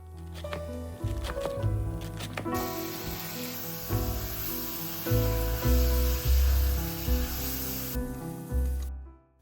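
Vegetables with thinly sliced celery sautéing in olive oil: a bright, even sizzle that starts a few seconds in and runs under louder background music before it cuts off.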